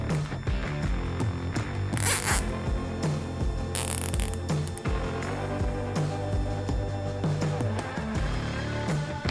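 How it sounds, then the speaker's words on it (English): A zip tie is pulled tight around the handlebar grip of a Vsett 10+ electric scooter, giving two quick ratcheting zips over steady background music. "Grab your zip tie"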